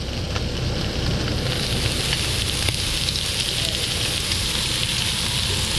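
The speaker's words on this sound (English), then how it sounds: "Put the garlic in the hot pan" Garlic sizzles in a hot pan, a steady crackling fry with a few sharper pops, close and continuous, with no one talking.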